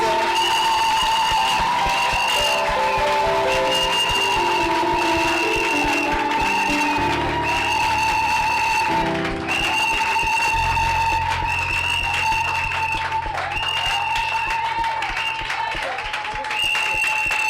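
A church congregation at a Sunday worship service claps and cheers in a broad, continuous wash, mixed under loud sustained keyboard music with held chords.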